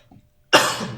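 A single sharp, harsh cough from a man who is coughing heavily, close and loud after a brief quiet moment.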